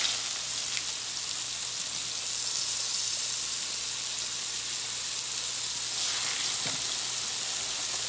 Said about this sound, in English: we're frying off our pork cutlets